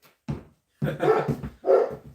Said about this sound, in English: The big dog barking.